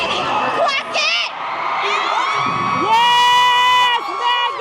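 A crowd at Dream Con 2025 welcomes Megan Thee Stallion with loud cheering, high-pitched whoops and shrieks rising over a steady roar, close and lively throughout.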